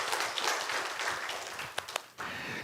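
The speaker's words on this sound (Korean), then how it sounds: "하나님께 영광의 박수 드리겠습니다." A church congregation claps during a Sunday service, a fairly dense round of applause with a few sharper individual claps standing out near the end before the sound thins and picks back up.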